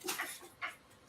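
Pet dog whimpering in two short, high whining bursts close by, with a faint whine trailing after.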